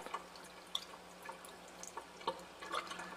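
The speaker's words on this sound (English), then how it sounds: "We'll rinse the test tube out." Water trickles and drips faintly while a test tube is rinsed at a sink, with scattered small splashes and irregular droplet ticks over a quiet, steady background.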